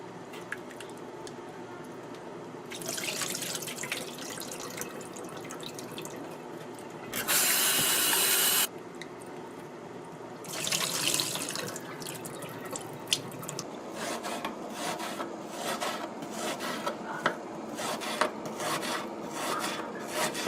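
Barley being washed under running tap water, with steady splashing and rinsing, bursts of rough rubbing and gritty rasping as the grains are worked by hand, and a loud gush of water partway through.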